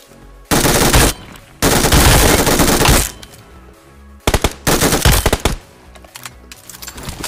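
Automatic weapon fire in PUBG Mobile, two long loud bursts followed by shorter rapid bursts with brief pauses between, close and harsh.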